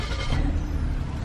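A 2018 Suzuki Swift automatic with push-button start-stop runs as a steady, loud, close-up engine rumble with a dense low drone and no break.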